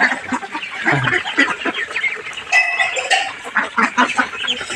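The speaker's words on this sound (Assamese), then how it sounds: "হাঁহ কিমান হাঁহ" A large flock of ducks of mixed sizes quacking and clucking together up close, a loud continuous chatter of many birds.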